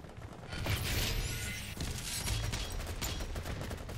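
Rapid gunfire from the DOOM video game, a dense continuous burst of shots with heavy low-end thumps, loud and sustained across the whole stretch without talk.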